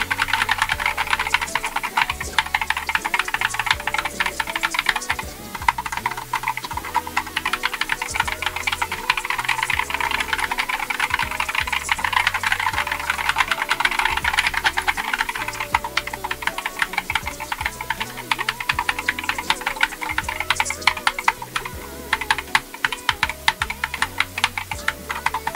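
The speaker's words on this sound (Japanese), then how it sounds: "こちらキーボードをタイピングしております。" Fast, continuous typing on a Corsair K60 Pro TKL optical gaming keyboard, close up, with a dense rattle of keystrokes and no voices.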